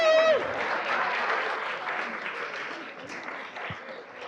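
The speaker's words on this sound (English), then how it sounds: "if we can please join us in another round of applause" An audience at a morning board meeting gives a round of applause, loud and dense at first and then gradually thinning, with a brief cheer at the start.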